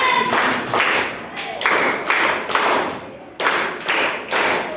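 Schoolchildren in a classroom clap their hands in repeated bursts of loud, dense applause, rising and falling in short waves, close to the microphone.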